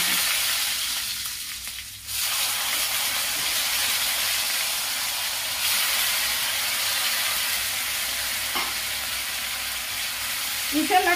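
Onion, tomato, ginger and green chilli paste frying in masala in a pan, a steady loud sizzle and hiss with brief stirring scrapes, continuous and close.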